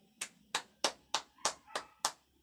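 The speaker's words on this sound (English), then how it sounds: "Let's clap our hands." A class claps hands in unison during a lesson: seven sharp, evenly spaced claps about a third of a second apart, close and crisp, with no talking.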